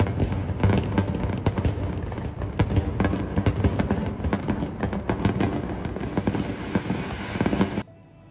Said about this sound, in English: as you looked at the firecrackers in the sky, which is for your welcome